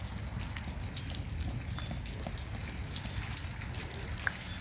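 Rain falling outdoors in a front yard onto new plant pots sown with coreopsis seed, a steady faint patter of scattered drops with an occasional sharper tap, no voices.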